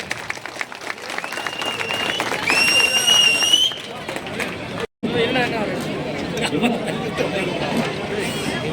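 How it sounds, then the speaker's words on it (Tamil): Outdoor crowd at a large TVK public meeting near the Periyar statue in Palani bursts into sustained applause mixed with chatter and a brief shrill whistle, the clapping breaking off for a moment before resuming steadily. "நல்லா கைத்தட்டல் கொடுத்துடலாம்"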